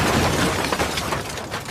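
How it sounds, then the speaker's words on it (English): A burst of crashing, shattering noise, like glass and debris breaking apart, fading quickly over under two seconds. "Smashing noise"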